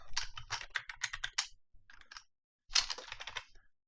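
Close computer keyboard typing as C# Debug.Log code is entered for Unity, with rapid clicky keystrokes in two bursts separated by a short pause.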